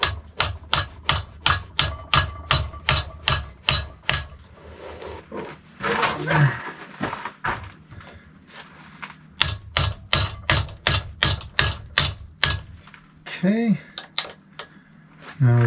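Hammer tapping on a knife blade in a steady run of sharp metallic clicks, close and evenly spaced, pausing midway while a voice speaks, then continuing in another rapid series.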